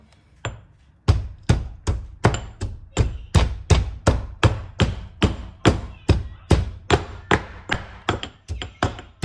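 Peeled ginger pounded in a mortar for masala tea, a steady run of about twenty loud, evenly spaced thuds, close and alone.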